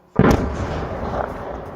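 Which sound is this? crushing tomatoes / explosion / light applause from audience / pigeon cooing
explosion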